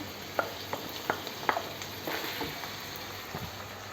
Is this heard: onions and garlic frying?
yes